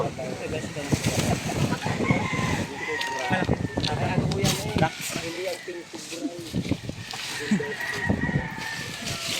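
Chickens cluck and a rooster crows amid steady outdoor commotion, with people talking over the birds throughout.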